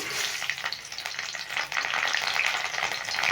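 Green chillies sputter in hot oil in a wok, a close, loud frying hiss with bursts of crackle and a brief dip before the sizzle swells again, without any voices.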